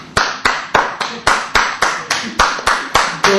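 Clapping after a poetry reading, though it comes from one person rather than a whole audience: about a dozen sharp, evenly spaced claps in a steady rhythm, close and loud, with no talk.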